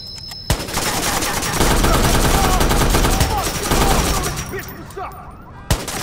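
Heavy gunfire in the video game Watch Dogs, with rapid automatic bursts and single loud shots crackling for several seconds, then a final sharp report after a brief lull.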